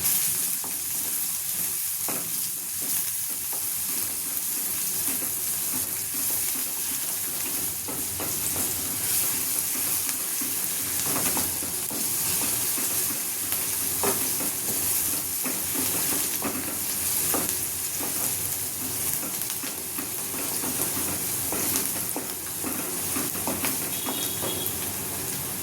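Onions for paneer bhurji, Amritsar-style street food, sizzle steadily in a hot pan while being stirred, with intermittent scraping and clinking over a continuous frying hiss.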